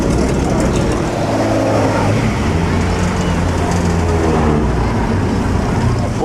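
A Jaguar D-type racing car at the Mille Miglia passes close by with a loud, continuous engine roar that shifts in pitch as it goes past, amid road noise.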